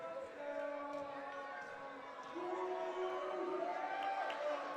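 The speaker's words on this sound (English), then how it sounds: "That hometown crowd might not be right in the face of the free throw shooter, but they're not quiet, that's for sure" A hometown crowd at a senior women's basketball final keeps up a steady, moderately loud roar of cheering and shouting during a free throw, with a commentator talking over it.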